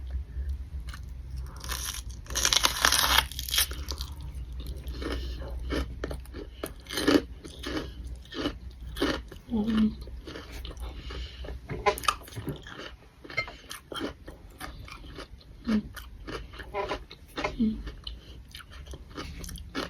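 Crunchy bites into a bell pepper stuffed with cream cheese and topped with Cheetos, giving repeated close crisp crunches and chewing with brief talk between them.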